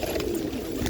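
Pigeons being released in a jungle setting give soft, low cooing calls, close and fairly steady, over a light background wash of outdoor noise.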